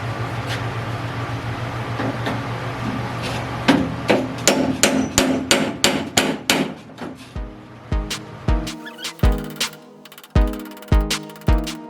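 Sharp metal hammer blows strike a corroded truck door hinge on a D13 shop truck, starting irregular and then landing as a steady run of about a dozen loud, close impacts over a droning shop background.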